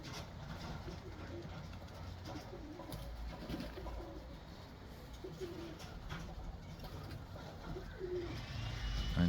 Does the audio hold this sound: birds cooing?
yes